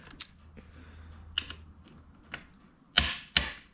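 A torque wrench gives sharp clicks while tightening a bolt into the aluminum casing of a Scotts steering damper on a Ducati Hypermotard 1100, with two louder clicks near the end after lighter ticks and taps.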